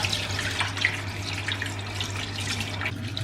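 Water drains from a pan, pouring and splashing continuously at close range, a steady gushing stream over a low hum.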